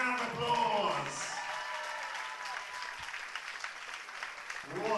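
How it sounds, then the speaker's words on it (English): An arena audience applauds the fighters after a combat-sports bout ended by a rear naked choke, a sustained round of clapping that tapers off, with an announcer's voice over it. "please give both of your competitors a massive round of applause"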